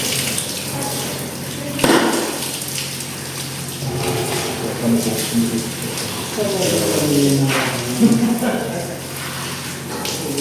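A hose fitted to a tap runs water for cleaning during dried pirarucu fish handling, a soft ongoing splash and gush under nearly constant talking with a few louder bumps.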